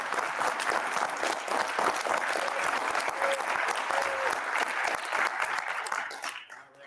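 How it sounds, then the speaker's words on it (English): An audience at a Wyoming esports state tournament applauds steadily, a dense wash of many hands clapping at once, loud and sustained before tapering off at the end. "One more round of applause for our host."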